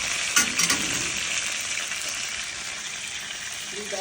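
Seasoned chicken fries in a pan at home, giving a steady, close hiss of sizzling with a brief clatter near the start and no talking.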